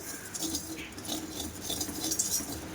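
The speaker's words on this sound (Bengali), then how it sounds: "একটু কফিটা নাড়াচাড়া করে নেব" A spoon scrapes and clinks against a pan while coffee powder is stirred and roasted for a homemade hair-darkening remedy, with light metallic rattles and scratches repeating steadily.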